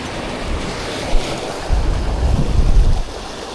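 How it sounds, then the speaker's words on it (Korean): Sea waves crash against the Saemangeum seawall in a steady, loud wash of surf with wind buffeting the microphone, a heavier surge rolling in midway, with no talking. "아 파도 많이 치네"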